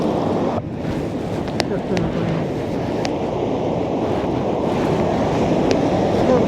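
Steady roar of sea surf breaking on Cullen Beach on the Moray Coast after a storm, continuous and loud with heavy wind buffeting the microphone throughout.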